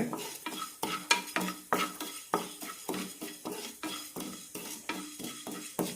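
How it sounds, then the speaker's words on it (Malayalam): A tablespoon of parboiled ration rice rattles and scrapes as it is stirred steadily in a dry pan for homemade sambar powder, with rhythmic close strokes of the spoon against the metal and a faint sizzle underneath. "ഇനി ഒരു ടേബിൾ സ്പൂൺ പുഴുങ്ങലരി വറുത്തെടുക്കാം"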